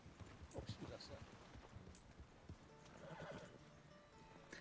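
A horse in Red Dead Redemption roleplay neighs and whinnies while its hooves clip-clop, faint and close, with scattered voices talking alongside.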